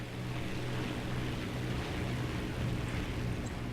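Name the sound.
Heinkel He 51 biplane engine taking off in War Thunder video game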